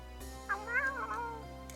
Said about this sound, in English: and I try to feed the cats, you can hear them in the background.